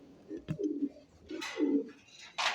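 Pom pigeons coo in a few soft, low rolling phrases close by, with a brief higher flutter and rustle between calls.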